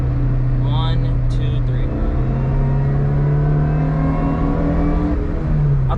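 Supercharger whine from a Subaru Vivio RX-R supercharged kei car under acceleration, heard from the cabin as a rising harmonic engine drone around 3,500 rpm, steady and loud, with a person speaking briefly early on.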